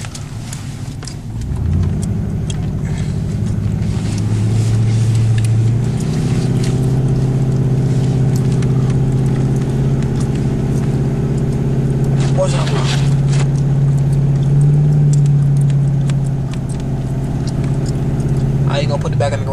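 A car climbs a snowy hill during a 2011 blizzard, its engine a loud, steady low drone that rises and holds as it pulls uphill. Voices speak over the engine at times.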